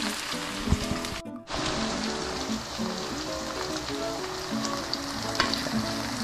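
Potatoes fry in a pan for a corned beef dish, giving a loud, steady crackling sizzle with a brief dip as more pieces drop in, close and without talk.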